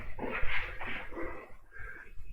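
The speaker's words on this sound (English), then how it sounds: "Old doggy's out there barking up a storm." An old female dog barks and whines outside, a few muffled, mid-distance calls that trail off.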